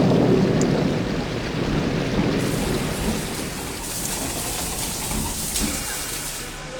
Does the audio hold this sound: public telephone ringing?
no